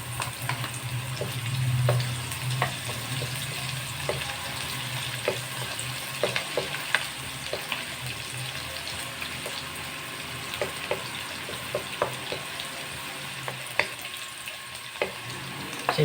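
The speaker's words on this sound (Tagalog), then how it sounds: "Tapos lagay na natin yung sibuyas." Onions and garlic sauté in a frying pan with a steady, close sizzle and crackle, while scattered clicks and light scraping come through as the pan is stirred.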